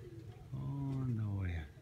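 Pigeons cooing close by in a loft, a low throaty warble rising and falling in a continuous run over about a second, with a brief higher chirp near the end.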